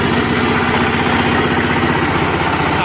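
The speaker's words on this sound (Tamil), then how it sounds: "ஆன் பண்ணிட்டோம், அதுதான் ஒரு ஸ்டார்ட் ஆயிடுச்சுங்க வண்டி." A power weeder farm machine's engine runs steadily at a constant, loud, rumbling idle with an even low throb and no talking.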